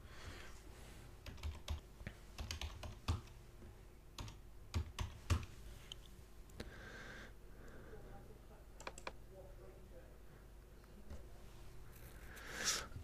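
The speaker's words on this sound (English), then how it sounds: "you type in your Apple ID and password" Quiet typing on a computer keyboard while entering an Apple ID and password, a run of soft, uneven key clicks in bursts with pauses, close and faint.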